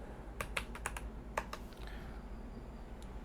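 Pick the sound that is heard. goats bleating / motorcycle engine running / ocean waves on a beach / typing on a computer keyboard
typing on a computer keyboard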